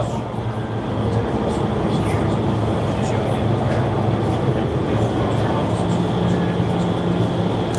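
An indoor skydiving vertical wind tunnel running at 61% power with 97 mph winds, a loud, steady roaring rush of air that fills the whole stretch without pause.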